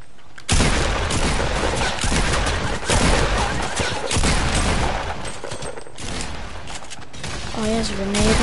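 Grenade launcher fire in a video game: heavy, booming blasts burst out repeatedly amid a dense, continuous roar of loud combat noise.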